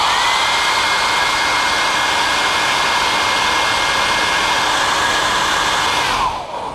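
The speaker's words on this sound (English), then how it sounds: "let's see what happens when I blow a blast of hot air from the hairdryer" A hair dryer blows hot air steadily and loudly onto a piece of shape memory alloy with a rushing whine, then cuts off and winds down at the very end.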